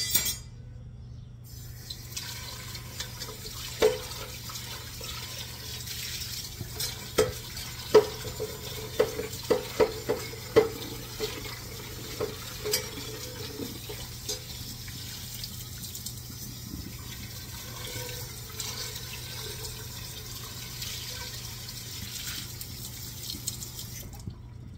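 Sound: pot being washed and rinsed under running water

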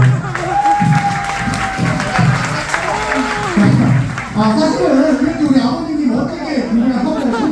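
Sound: audience applause at a first-birthday party

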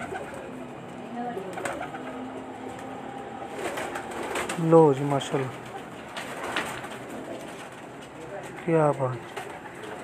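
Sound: blue pigeon cooing

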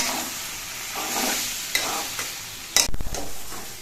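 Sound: stirring garam masala into frying banana-flower curry

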